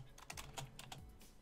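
Rapid keystrokes on a computer keyboard while entering text in Sony Vegas Pro, a quick irregular burst of clicks, close and fairly quiet, with no talking.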